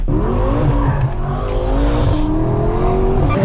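Tuned twin-turbo V8 BMW M6 with about 700 wheel horsepower, accelerating hard with a loud, steady engine roar that climbs through the revs. It is heard from close range inside the car.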